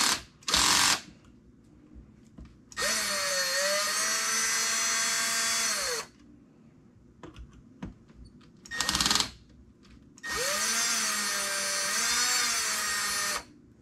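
A power driver backs bolts out of a Traxxas Sledge RC truck, two sustained whirring bursts of about three seconds each with a wavering pitch, separated by short clicks and quiet pauses.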